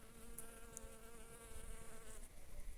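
Steady, close insect buzzing of bees busy at work outdoors as winter turns to spring, a continuous droning hum with a few sharper passes, moderately loud and with no talking.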